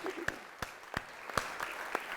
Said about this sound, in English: one last round of applause for Out of Character Theatre Company